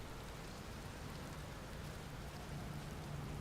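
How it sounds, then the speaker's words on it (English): Steady, even rainfall in a video game, a soft continuous hiss of drops without pauses, quiet and unbroken with no talk over it. "It's a good thing I never got bored of rain, huh?"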